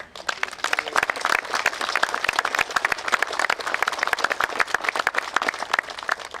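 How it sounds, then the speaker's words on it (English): Audience at a West Virginia government event applauding a new law enforcement dive team, dense and steady clapping from a sizable crowd that holds throughout without voices. "I think we ought to all clap for them because this is amazing."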